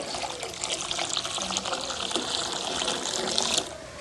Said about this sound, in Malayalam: പാലിലേക്ക് ഞാൻ കുറച്ച് വെള്ളം കൂട്ടുന്നുണ്ട്.